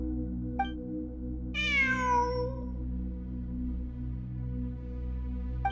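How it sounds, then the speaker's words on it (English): A cat in the video game Genshin Impact, in a Sumeru ruins exploration event, gives one clear, drawn-out meow, with faint short chirps before and after it, over a steady low ambient hum. "It really is a cat."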